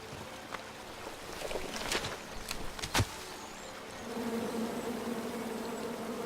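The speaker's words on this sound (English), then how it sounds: "you chop down the tree full of angry bees" Angry bees from a tree in the King's Quest video game buzz steadily at close range, joined by a few sharp clicks and a louder droning swell near the end.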